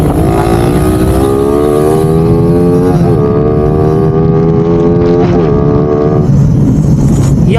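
A Raider 150 carbureted motorcycle with about 133,000 km on it runs loud and close, its engine holding a steady droning tone with slight pitch wobbles throughout.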